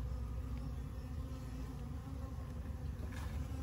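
Steady insect buzzing around a 24-frame Layens horizontal beehive with small flies, a continuous close droning hum with no talk.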